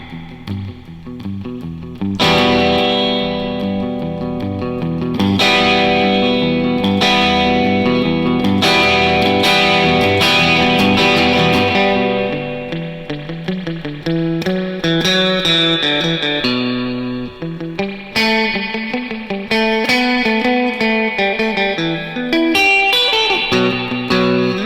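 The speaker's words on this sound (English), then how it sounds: "you can really hear that reverb drip" An electric surf guitar with spring reverb plays sustained notes and palm-muted phrases, the reverb drip splashing around accented notes, loud and alone throughout with no talking.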